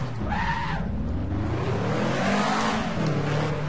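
A Ford Focus engine in a racing video game drones loudly and steadily, its pitch rising and sweeping through revs with a harsh, buzzing tone and no talk.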